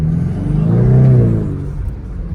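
A Ford Mustang Dark Horse is driven on the Charlotte Roval race track during a recon lap. Its engine note rises and then falls in a close, loud rev that sweeps up in pitch, with road and wind noise underneath.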